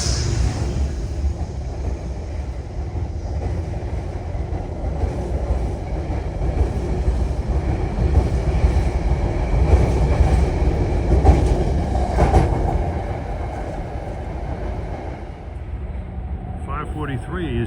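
Non-stop Grand Central to Beacon passenger train passing close by at the Harlem 125th Street station, a steady loud rumble with rhythmic clickety-clack of wheels throughout, with faint voices in the background.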